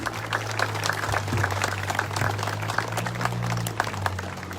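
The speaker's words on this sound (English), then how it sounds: "Let's have a round of applause" An audience applauds steadily for several seconds at a Veterans Day ceremony, a soft wash of many hands clapping over a low electrical hum.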